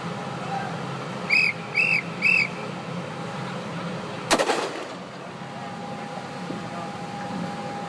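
A Mark-87 Mod 1 line-throwing kit, an M-14 conversion, fires a rubber projectile carrying a mooring line from a pier to a destroyer in dry dock: one sharp, loud report after three short whistle blasts, then lingering outdoor ambience.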